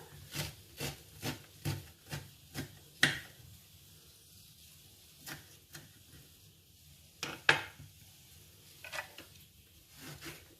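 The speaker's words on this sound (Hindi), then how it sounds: "बस आप बथुए को बारीक बारीक चॉप कर लीजिएगा।" Bathua leaves being finely chopped with a knife on a board, in a series of faint, quick taps with a few pauses and occasional louder knocks.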